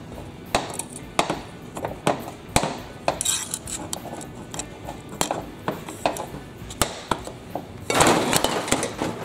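A screwdriver levers a metal part back and forth on an International Harvester Lowboy tractor, producing a series of sharp metallic knocks and clinks at uneven intervals, with a denser scraping clatter toward the end.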